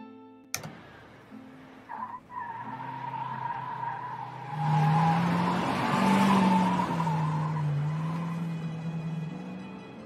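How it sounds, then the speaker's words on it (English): Car tires squeal on loose desert sugar sand in a movie effect: a sharp impact, then a long, loud tonal screech that swells and wavers over a rumbling engine. "Hear those tires squeal?"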